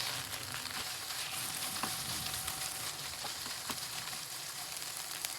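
Lamb pieces fry in a pan for a lamb bhuna, giving a steady close sizzle with soft scraping from regular stirring, alone with no talk.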